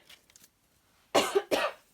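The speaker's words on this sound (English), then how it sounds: "I don't know why I'm coughing." Two loud, close coughs in quick succession after a brief quiet stretch with faint small noises.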